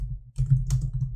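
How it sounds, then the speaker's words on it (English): Quick keystrokes tap on a computer keyboard, a short burst of clicks with a brief pause, close and clear over a low steady hum. "let's start typing"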